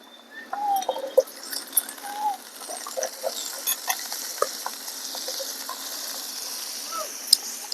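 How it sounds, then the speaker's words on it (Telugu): Thin-cut sweet potato pieces sizzle in hot tempering oil with green chillies in a pan, a steady soft frying hiss broken by scattered clicks and scraping stirs close by. "ఇప్పుడు మనం గింజగడ్డలన్నీ సన్న కట్ చేసుకున్నాం కదా వేసుకున్నాం తాలింపులో"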